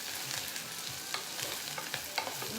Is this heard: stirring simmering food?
yes